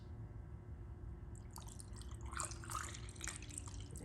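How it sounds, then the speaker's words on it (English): Washer fluid being poured into the intake ports of a 2.0T engine, a faint trickling and dripping that grows busier midway, close over a low steady hum. "Now we're going to pour the washer fluid in the intake ports."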